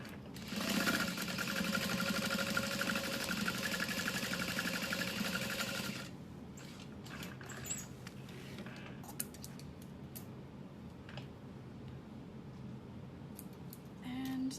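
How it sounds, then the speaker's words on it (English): A sewing machine stitches across the bottom of the card slots on a diamond clutch wallet, whirring steadily and loudly for about six seconds before dropping to quiet clicks and light handling noises. "then we are going to sew across the bottom of our card slots"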